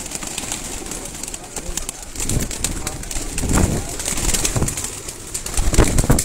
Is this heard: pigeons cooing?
yes